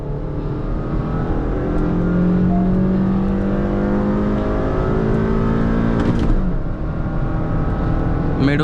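Hyundai Verna and stage 1 Honda City accelerate hard side by side in a drag race, a loud, continuous in-car engine roar whose tones climb steadily through the gears with a brief shift break near the end.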